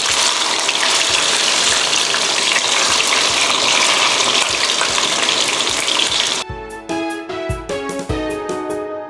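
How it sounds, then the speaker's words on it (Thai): Shrimp balls deep-fry in hot oil with a loud, steady, crackling sizzle that fills most of the stretch before the texture shifts near the end. "ทอดให้ผิวด้านนอกนะคะ ของลูกชิ้นกุ้งของเราเนี่ยเหลืองกรอบนะคะ"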